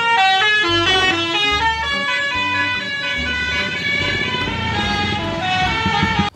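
A toy bus plays an electronic horn and jingle, loud and close, with honks that repeat in a bouncy rhythm.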